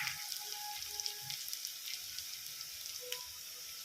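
Fresh curry leaves crackle and sizzle steadily in hot oil, a close, fairly quiet frying hiss with small pops, with a brief thump right at the end and no voices.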